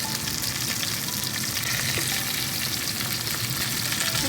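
Cauliflower frying with cumin, cloves, white cardamom and cinnamon in a hot pan, a loud steady sizzle that stays even and close throughout with no voices.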